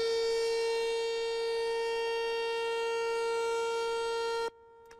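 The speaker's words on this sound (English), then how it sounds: "one of the oldest forms of an alert system is, of course, the tornado siren" A steady, loud siren tone holds for several seconds without rising or falling, then cuts off abruptly near the end, leaving a faint hum.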